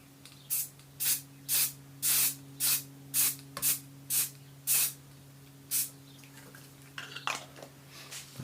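Spray paint hisses through a stencil onto a vintage military-style gun box in about a dozen short, loud, evenly spaced bursts, then a few quieter scattered puffs, with no talking.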